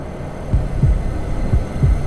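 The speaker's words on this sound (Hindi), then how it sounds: "उसका दिल तेज धड़कने लगा।" A fast heartbeat sound effect in a horror story: low, deep thumps in quick double beats, loud and close, repeating steadily with nothing else around them.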